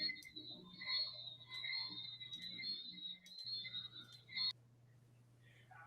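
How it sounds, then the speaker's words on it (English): Night chorus of frogs and crickets, a dense, steady trilling with pulsing croaks, heard faintly over a livestream call; the chorus cuts off abruptly near the end, leaving a quieter hum. "is it all the frogs and crickets?"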